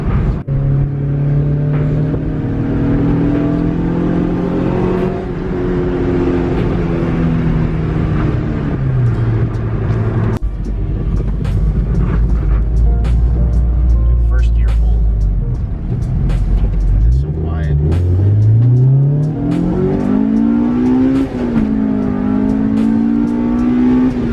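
A Honda Civic Si with a newly installed exhaust idles with a deep exhaust rumble, then revs up and down several times, loud and close, with a low throaty drone throughout.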